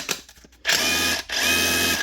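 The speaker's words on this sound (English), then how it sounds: "But the drill, working fine now." A repaired Dewalt DCH273 SDS rotary hammer drill with a new tool holder runs in two loud, sustained whirring bursts after a few quiet clicks, close up and with no talking.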